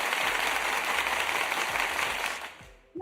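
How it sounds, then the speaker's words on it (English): Audience applause from a live-streamed show crowd, a loud dense wash of clapping that swells and then fades out near the end. "Let's give a round of applause for everyone here tonight."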